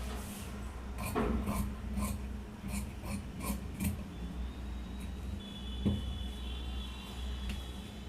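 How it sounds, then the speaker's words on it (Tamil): Scissors cutting fabric for a pant pocket, a series of soft close rasping snips in an uneven rhythm, fairly quiet, with a faint background hum and no talking. "இப்போ நம்ம பாக்கெட் வந்து கட் பண்ணிக்கலாம்."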